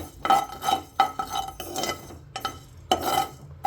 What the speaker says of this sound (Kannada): ಜೀರಿಗೆನ ಸ್ವಲ್ಪ ಗರಿ ಗರಿ ಅನ್ನೋ ರೀತಿ ಅದನ್ನು ಸ್ವಲ್ಪ ಹುರ್ಕೋಬೇಕು ನೋಡಿ ಈ ಥರ